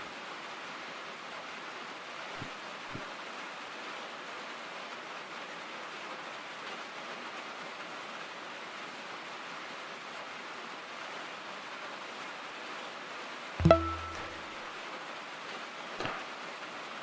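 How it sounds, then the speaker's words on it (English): Constant heavy rain falls outside as a steady, even hiss that never lets up, with a sharp knock near the end and a fainter one after it. "It's just constant rain."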